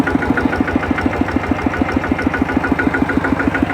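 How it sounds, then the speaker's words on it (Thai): A tractor engine idles close by after starting, a loud, even, rapid knocking chug that repeats without a break. "ติดรถไถเรียบร้อยแล้ว สิออกไป"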